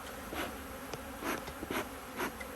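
Angry honey bees swarm around the listener, their buzzing a constant drone that swells in several close passes as single bees fly by. No voices.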